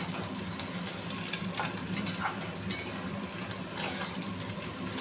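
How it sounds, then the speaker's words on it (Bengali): Boiled eggs fry with onions in a pan, a continuous sizzle broken by scattered crackles and the scrape of stirring, close and moderately loud with no talking. "ডিমটাকে জাস্ট হালকা একটু ভাজবো, আশেপাশে পেঁয়াজের সাথে হালকা একটু ভেজে নেব"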